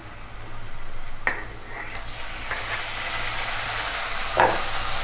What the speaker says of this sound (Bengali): পেঁয়াজটা একটু নাড়বো।